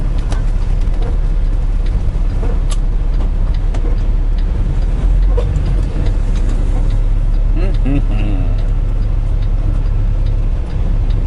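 A car on the road produces a continuous loud low rumble of engine and tyres, with small ticks and knocks over the top.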